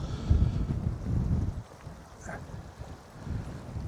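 Strong gale gusts buffet the microphone on a chilly morning beside a Scottish loch, loud rumbling bursts that ease off midway and then build again.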